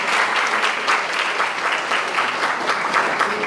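An audience at a university cultural event applauds warmly, dense even clapping from many people holding a steady level throughout.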